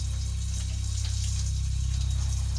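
Shower water runs steadily and close, a continuous hiss and spatter over a deep low hum that holds at even loudness from start to finish.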